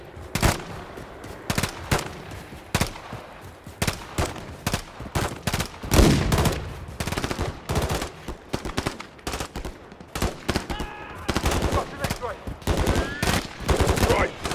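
Rapid bursts of automatic rifle and machine-gun fire from a Call of Duty: Modern Warfare 3 firefight in a frozen tundra forest, dense overlapping volleys crackling loud and close throughout, with occasional distant shots between them.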